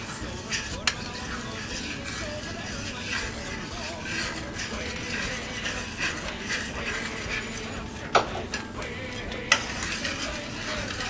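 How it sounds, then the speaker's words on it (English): A thickener is stirred into beef and beer broth simmering in a pot, giving a soft continuous bubbling sizzle with a few sharp clinks of the utensil. "I'm going to slowly stir this in, half at a time."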